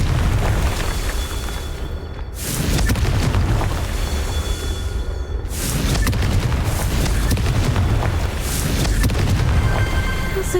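Confringo blasting spell explosions in the Hogwarts Legacy video game, two loud booming blasts a few seconds apart, each bursting sharply and then rolling into a long rumbling decay, with no voices heard.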